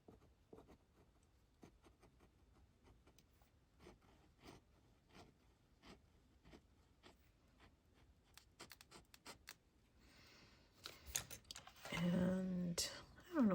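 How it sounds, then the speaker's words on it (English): A Kakimori nib pen scratching across paper in short, faint strokes, steady and close, followed near the end by louder rustling and handling noises. "I'm just gonna write with the kakimori down here too"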